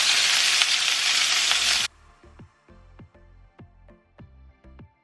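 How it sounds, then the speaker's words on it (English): Shrimp sizzles loudly in a hot pan for about two seconds, then the frying stops and a series of rhythmic clinking knocks follows, about eight of them, with no talking. "let's go ahead and cook our shrimp"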